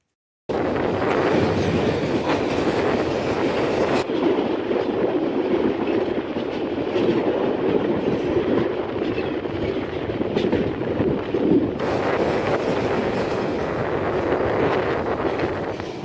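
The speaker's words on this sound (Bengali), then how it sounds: "এই মুহূর্তে আমাদের সাথে দেখা হবে নোয়াখালী থেকে ছেড়ে আসা ঢাকা অভিমুখী সাতশো এগারো উপকূল এক্সপ্রেসের সাথে" The 711 Upakul Express, running from Noakhali toward Dhaka, rolls past in a steady, loud, continuous rumble with faint wheel clatter and wind buffeting, sustained throughout without voices.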